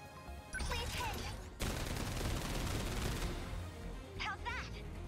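Video game gunfire in 13 Sentinels: Aegis Rim comes as a loud sustained barrage of rapid shots and booms lasting a couple of seconds, with short electronic effects before and after.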